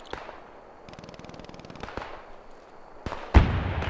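Suppressing fire from a machine gun in Post Scriptum, a WWII shooter: a rapid rattling burst of gunfire, then a few sharp louder shots and a close heavy blast near the end, with no voices.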